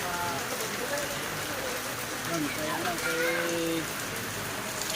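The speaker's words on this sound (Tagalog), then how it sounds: "Malakas ang ulan" Steady broadband hiss of heavy rain pouring down, with a voice talking faintly underneath throughout.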